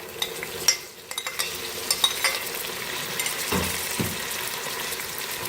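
Chopped tomato goes into a pan of fried garlic-ginger paste, bringing a steady loud sizzle broken by scraping stirs and a few clinks of a spoon against the pan.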